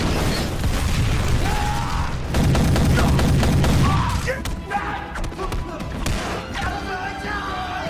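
A film action scene where a motorcycle is rammed into a helicopter, which crashes and explodes: loud, dense bursts of booms and crashing debris fill the first half, then a rumbling, crackling aftermath continues at lower intensity.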